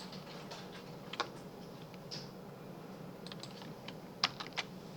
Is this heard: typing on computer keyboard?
yes